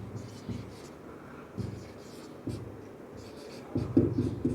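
Marker or chalk strokes on a classroom board during a maths lesson, heard as short scratchy bursts of writing with brief pauses between them, growing louder near the end, with faint voice in the background.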